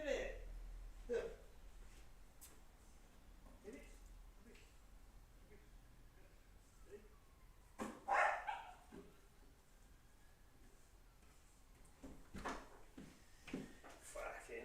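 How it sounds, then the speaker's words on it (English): A dog barks indoors in a few sharp, scattered bursts, fairly faint, amid quiet talk and small room noises. "Fucking dog, mate."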